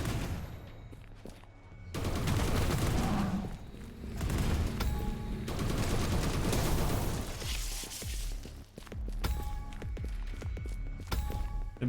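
Bursts of gunfire from shooting in the video game Discovery: Into the Pit crackle in rapid volleys, separated by short lulls with layered game effects.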